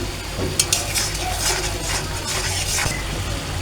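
Boiled chickpeas with salt being stirred in a pan, a soft continuous scraping and light sizzle with a few sharper clinks of the spoon against the pan.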